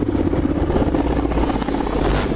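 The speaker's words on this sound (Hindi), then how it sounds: "Mi-17 हेलीकॉप्टर मल्टी रोल यानी कई भूमिकाएं निभाने वाला है" A Russian-made Mi-17 military transport helicopter thunders steadily with a dense, continuous rotor and engine roar, loud and close, with no talk.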